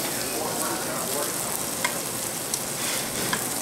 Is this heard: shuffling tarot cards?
no